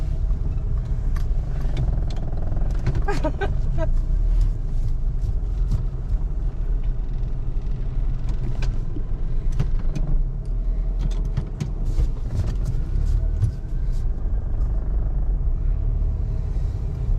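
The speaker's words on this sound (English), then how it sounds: "The fun of driving around downtown Toronto." A car cruises through downtown Toronto at night, its steady low engine and road rumble continuous throughout with faint passing traffic and scattered clicks on top; no one speaks.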